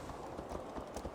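Horse hooves clip-clopping in the video game Assassin's Creed Valhalla, a quick run of steady hoofbeats at close range over a low background rumble.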